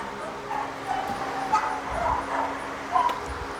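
Dogs near a kennel bark in short yips and whimper, in close, uneven bursts over a steady background hum.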